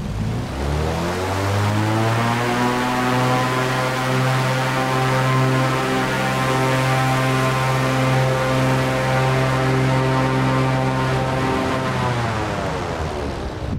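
A propeller airplane engine in Flight Simulator 2024 drones steadily, its deep harmonic hum rising at the start and holding loud and even before cutting off near the end.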